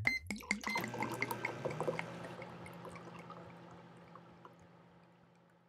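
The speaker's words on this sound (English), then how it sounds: "You pour the wine." Wine pours into a glass in a quick close splashing run that settles into a fading ringing trickle, quiet and alone.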